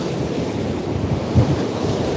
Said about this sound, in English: I thought some of these waves would actually come up and hit me